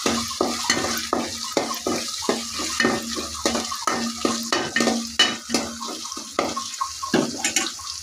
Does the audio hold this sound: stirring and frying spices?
yes